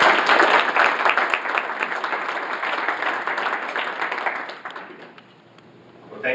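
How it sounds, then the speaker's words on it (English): An audience at a talk on sports economics in Atlanta and Japan claps steadily for several seconds, a dense wash of applause that thins out and fades toward the end. "Let's give him another round of applause."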